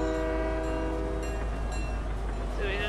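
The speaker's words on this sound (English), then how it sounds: "The train's passing by!" A train in the Fortnite video game passes close by, giving a loud steady rumble with a sustained horn-like tone and a brief higher whistle at the end.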